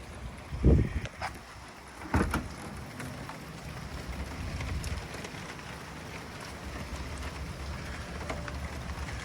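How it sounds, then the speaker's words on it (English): Rain falling outdoors during a wet day of bodywork repair on a 1985 Mercedes-Benz 500SEC, a steady patter with a couple of louder knocks near the start, then continuous hiss throughout. "It's raining out here, so excuse everything being wet."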